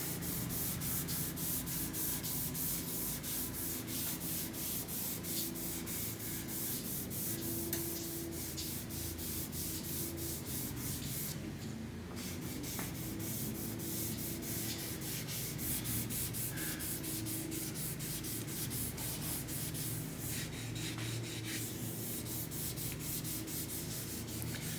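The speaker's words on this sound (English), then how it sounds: "Now we're really not doing as much sanding as we are starting to polish." Continuous close rubbing and sanding across a guitar body finish as the work moves from sanding toward polishing, a steady scratchy hiss with no talk, briefly sharper in a couple of spots.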